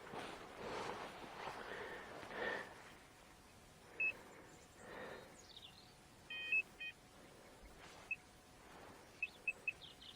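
Short electronic beeps from a metal detector over a target buried two or three inches down, heard as a few separate tones and then a quick run of three, sounding over faint outdoor background noise.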